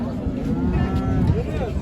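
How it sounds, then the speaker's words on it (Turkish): A Simmental cow at a Kırşehir livestock market moos in a long, drawn-out call close by, over crowd murmur and background talk. "Burada şu kurbanlık bir inek var."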